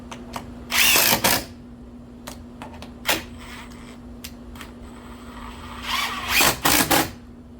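A power drill drives screws into a wooden fence gate. Two main bursts of whirring sound, each a second or two long, with short trigger taps between them. The sound is close and loud against a low background hum, and no one speaks.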